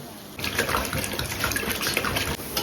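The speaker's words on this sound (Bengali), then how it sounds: "আর চালটা এখন আমি ধুয়ে ভিজিয়ে রাখবো" Rice for biryani is washed in running water, with a close, steady splashing and gushing that starts abruptly and continues without speech.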